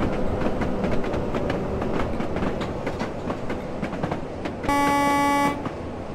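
A slam-door electric multiple unit train in a train simulator game runs steadily with rhythmic clickety-clack and rumbling, then a short, loud two-tone horn sounds near the end.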